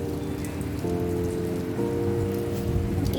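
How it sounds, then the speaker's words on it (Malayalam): Heavy rain falls on a terrace as a steady, dense, loud hiss of drops, with a low hum running underneath. "നല്ല മഴ പെയ്യുന്നുണ്ട്."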